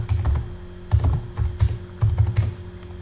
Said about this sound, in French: Je tape catégorie